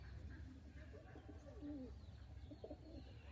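Faint, murmuring coos come from a small group of young pigeons, low throaty calls overlapping in a steady, quiet stream.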